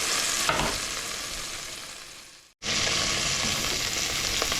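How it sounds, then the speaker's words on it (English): Deer sausage fries hard in a pot over high heat, making a loud, dense sizzle that fades briefly to silence midway, then returns at full strength. "We're gonna crank the heat up a little more, get it back frying hard again."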